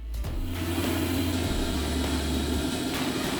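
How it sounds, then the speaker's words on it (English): Large gas cauldron burner firing at full blast in a candy-making setup, a loud, steady roaring rush with a deep low rumble that holds constant throughout. "We turn the cauldron burner on full blast."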